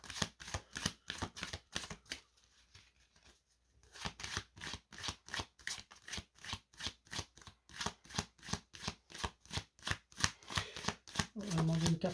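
Tarot cards riffled and dealt, a long run of quick crisp card flutters and snaps with a short pause, while someone talks intermittently.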